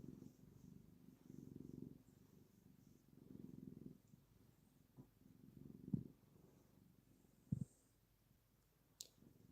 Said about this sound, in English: I'm going to stop talking for a few moments and just kind of let you hear Max purr